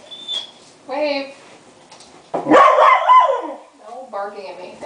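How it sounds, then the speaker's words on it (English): A dog gives a few short, sharp barks and yips at close range in between bits of a woman's speech, the loudest bark landing in the middle. "will you stop barking at me?"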